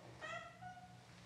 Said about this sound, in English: The cat just wandered into the room